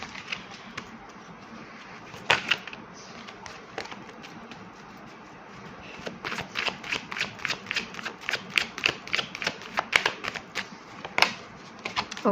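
Fallen tarot cards being tapped and slid back into a deck, a long run of close, crisp clicks and flicks that quicken into rapid bursts in the second half, no talking.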